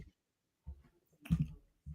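A few sparse, soft computer keyboard clicks, separate taps with silent gaps between them, close and quiet.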